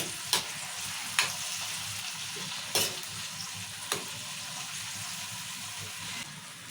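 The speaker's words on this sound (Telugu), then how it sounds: "ఇప్పుడు టమాటా వేసుకున్నాము టమాటా కూడా నూనెలో తీసుకోవాలి మంచిగా" Tomatoes frying in oil for a bottle gourd masala curry, a constant sizzle broken by four sharp spoon knocks against the pan at intervals.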